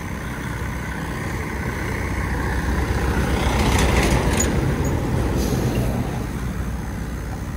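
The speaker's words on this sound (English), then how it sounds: "Got a big truck coming through." A big truck passes along a nearby road, its engine rumble swelling steadily to a peak near the middle and easing off slightly, with no voices over the broad, continuous roar.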